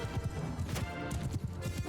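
Cavalry horses galloping in the Mount & Blade II Bannerlord video game, a rapid, close drumming of hooves in an uneven rhythm, with a brief clatter of battle noise over it and no talk.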